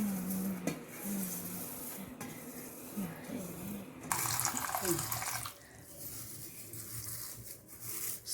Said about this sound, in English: Now we need to wash this China grass.